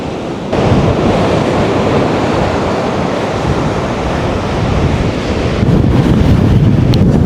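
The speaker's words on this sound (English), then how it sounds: "Super windy day today" Strong wind roars into the microphone over crashing surf at Chintsa West beach, Eastern Cape, South Africa, a loud, constant rush that swells slightly near the end.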